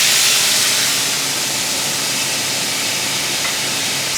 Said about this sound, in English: I'm gonna add a little bit of that brine.